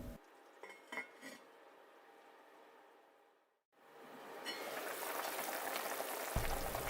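Beef brisket with a spice bag in boiling water simmers in a covered pot. A few faint clinks come first, then a brief hush, then a soft, steady bubbling hiss builds.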